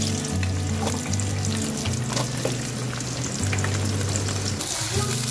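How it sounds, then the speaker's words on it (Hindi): Two medium onions frying in hot oil in a pan for a coriander chicken dish. A steady sizzle runs without a break from start to finish, close and fairly loud, with a constant low hum underneath. "तो यहाँ ऑयल गरम हो गया है, तो अब मैं यहाँ पे 2 नॉर्मल साइज की प्याज है जिसे मैं डालती हूँ"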